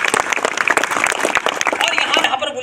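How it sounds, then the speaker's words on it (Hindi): A crowd at a village school gathering claps energetically in a brief, dense burst of overlapping hand claps, with voices mixed in. "निश्चित रूप से जोरदार तालियां होनी चाहिए इस बात के लिए"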